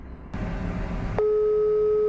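A telephone line sounds while a call is being placed: a short burst of hissing line noise, then a steady, loud, unbroken single-pitch tone that holds to the end.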